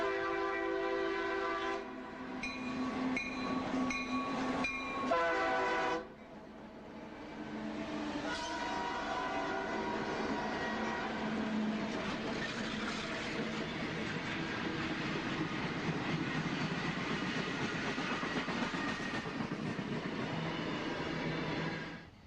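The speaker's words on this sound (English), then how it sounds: "Train 604 barely breaks a sweat as it rolls out of Skykomish" BNSF freight train led by an EMD SD40-2 locomotive rolling out of Skykomish on Stevens Pass, with a horn sounding early and a steady, loud rumble of engine and rolling wagons.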